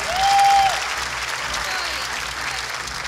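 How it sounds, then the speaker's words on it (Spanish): Audience applause at a live comedy show, a burst of clapping that stays steady under a brief whistle-like tone near the start. "Fuertes aplausos, por favor."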